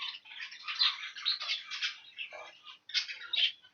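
Young birds in an aviary nursery flight keep up a dense, continuous chorus of high chirps and squawks, fairly faint and with no voices over it.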